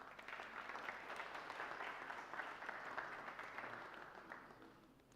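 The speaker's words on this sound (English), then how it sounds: "Kindly give them a huge round of applause" Audience applause at a startup launch event: a steady round of clapping from a room of people, sustained and even for several seconds before tapering off, heard fairly faintly and somewhat distant.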